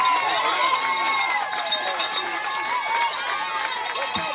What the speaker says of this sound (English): As you hear crowds from both sides cheering on their teams.